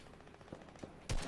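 Gunfire in Fortnite Battle Royale striking the player from behind, a few quiet sharp shots spaced out and then a louder burst near the end, heard alone without talk.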